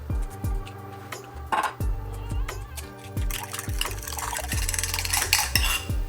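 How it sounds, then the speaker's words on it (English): Kitchen sounds while two eggs are cracked into a bowl for breading fish, with sharp taps and clinks of shells on a dish, several distinct knocks followed by faint liquid and stirring noises, close and alone. "So I'm gonna go ahead and crack 2 eggs."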